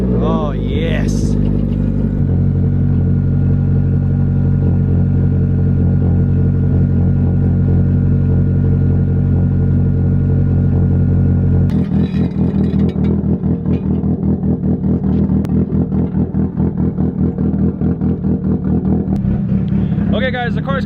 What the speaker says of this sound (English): the car is kind of loud